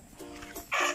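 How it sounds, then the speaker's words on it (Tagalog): Native chickens in a rural backyard give a few short, soft clucking calls, ending in a slightly louder squawk. "Native manok."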